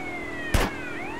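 A police car siren in GTA Criminal Russia, a steady wailing tone sliding slowly in pitch, interrupted by a brief loud thump near the middle.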